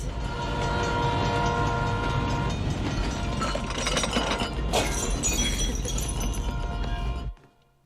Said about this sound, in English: Does that freight train come through at 5 a.m. every morning?